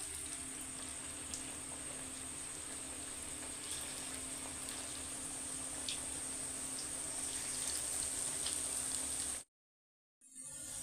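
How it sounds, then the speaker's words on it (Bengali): Onion pakoras half-frying in oil make a soft, even crackling sizzle that holds steady before dropping out briefly near the end. "এবার একই প্রসেসে এগুলো হাফ করে ভেজে নিচ্ছি।"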